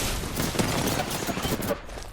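Continuous rapid rifle fire from the R9 in a video game, a dense loud burst running throughout with a faint voice underneath.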